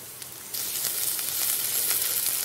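Onions frying in oil for a mahi mahi fish curry, a soft sizzle that swells after a brief moment and then holds steady with faint crackles, near and with no speech.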